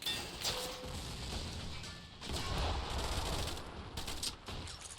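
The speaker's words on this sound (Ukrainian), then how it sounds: "Ще один туран веде вогонь." Tank cannons and small arms fire in a Men of War World War II battle, with a dense, continuous rumble of gunfire, distant booms and crackling bursts layered throughout, no voices.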